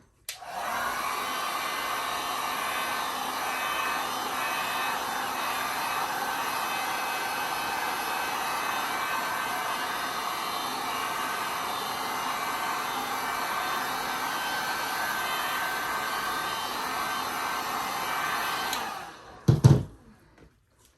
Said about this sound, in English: I am going to hit it with a heat gun and warm this up